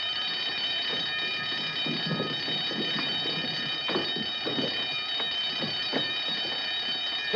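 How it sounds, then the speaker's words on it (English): An alarm bell rings steadily and loudly throughout, a continuous metallic ringing with a busy rumbling background beneath it. "Turn off the alarm."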